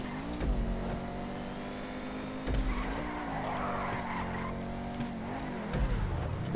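Racing car engine in GTA Online revving and climbing in pitch through gear changes, with tire skids and squeals, steady and fairly close throughout.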